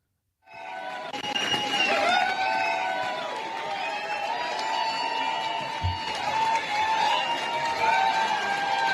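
A large crowd cheers and applauds at a Susan Crawford campaign rally, a dense, continuous roar of many voices with whistles rising over it, steady and loud throughout.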